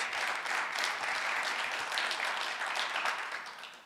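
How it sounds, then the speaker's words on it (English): An audience at a community growth talk applauds a speaker, with a short burst of steady clapping from many people that fades toward the end. "Let's give him a round of applause."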